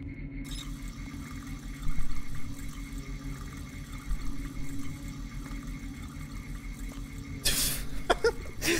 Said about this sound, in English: Yeah, it was you heard a faucet, man.